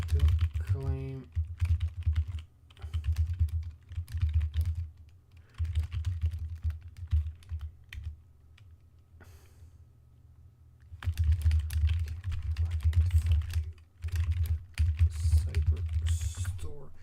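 Fast clattering keystrokes on a computer keyboard come in bursts with short pauses, close and crisp, with a quiet lull in the middle before the typing resumes.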